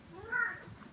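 A house cat meows once, a short rising-falling call, close and moderately loud in a quiet indoor room.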